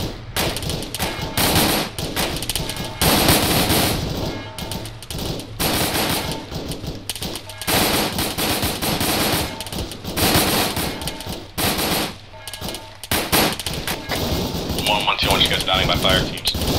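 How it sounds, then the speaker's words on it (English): Machine guns lay down covering fire in the ARMA 3 military shooter, sustained rapid bursts that run almost without pause, loud and close, with radio-style voices talking over the shooting. "we're going to try to provide covering fire from here"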